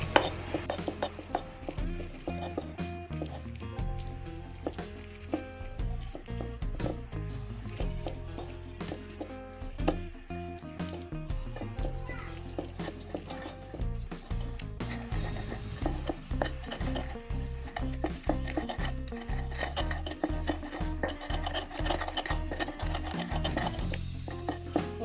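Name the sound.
grinding green chili sambal with mortar and pestle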